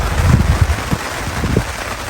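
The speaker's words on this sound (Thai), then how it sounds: "ฝนก็ตก" Rain falls steadily at a fishing camp for Nile tilapia, a broad, diffuse patter with some low rumbling gusts, no voices.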